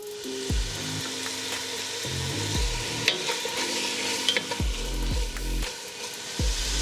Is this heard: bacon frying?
yes